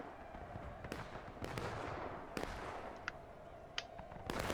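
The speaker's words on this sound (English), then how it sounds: "Except for a good shot from the artillery." Artillery and musket fire echoes across a battlefield in the game War of Rights, a series of distant booms and sharp cracks scattered irregularly over a low background rumble.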